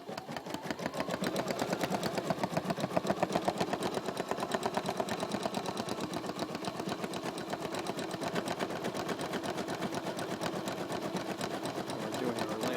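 A Bernina embroidery machine stitches lettering, its rapid, steady needle chatter repeating evenly for nearly thirteen seconds, close and fairly quiet with no voices.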